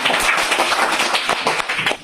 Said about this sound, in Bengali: জোরে হাততালি প্রভাতের জন্য